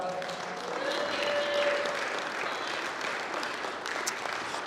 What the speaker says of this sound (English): Can we get a round of applause for our